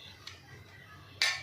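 A faint metal clink as utensils knock against a pot while cooked lapsi flour is emptied into another vessel, with one soft tap early and one brighter clink near the end over quiet kitchen background.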